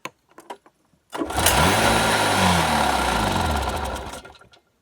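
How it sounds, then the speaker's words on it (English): An old abandoned snowmobile engine firing after being primed with starting fluid, a few faint clicks and then a rough two-stroke roar that catches, runs unevenly for about three seconds and dies away, loud and close. "Got ignition, that's good."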